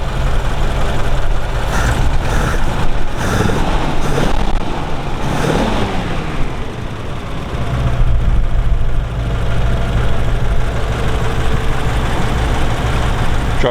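A 1932 Ford 5W coupe retro-rod with a rebuilt engine idles steadily and fairly loudly nearby, a low, even rumble with brief rustling and handling noises early on and no talk over it.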